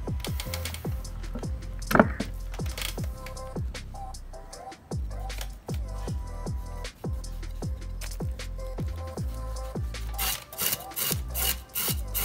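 Knife working through a large 10 kg fish with thick, tough fins, a long run of regular scraping and sawing strokes close up with occasional sharper knocks, and no talking.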